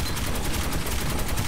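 Rapid automatic gunfire crackles in dense, continuous bursts from the Metro 2033 video game, loud and close with no pause.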